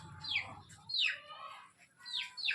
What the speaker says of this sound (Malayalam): ഇതാണ് കരിങ്കോഴി കേട്ടോ.